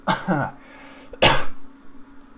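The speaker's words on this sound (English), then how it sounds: "I need to cough one sec." Two sharp coughs a moment apart, close and fairly loud, with a faint low hum underneath.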